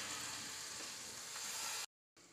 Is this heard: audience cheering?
no